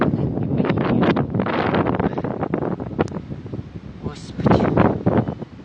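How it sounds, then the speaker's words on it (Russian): Strong northerly wind gusts against the microphone outdoors, a steady broadband roar with louder surges near the end and some creaking, with someone speaking through it. "Ветер дует"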